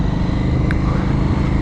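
A KTM 890 SMT motorcycle with a Remus exhaust idles with a deep, steady exhaust rumble, loud and close, without any break.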